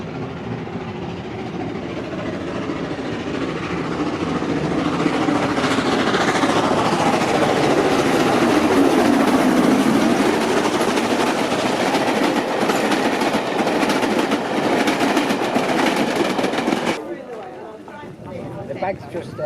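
A train passes at the Great Central Railway heritage line, a loud, sustained rumble and rattle of carriages that fades out toward the end, with people chatting nearby.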